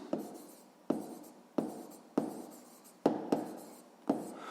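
Pen writing in a notebook while solving a sixth-grade math exercise: a series of about seven distinct scratchy strokes, each starting with a sharp tap and fading, close and fairly quiet, with no voices.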